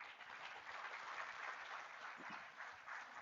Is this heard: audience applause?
yes